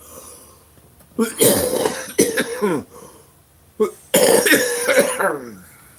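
Two bouts of harsh, rasping smoker's coughing, each a cluster of several hacking coughs separated by a quiet pause, close and loud.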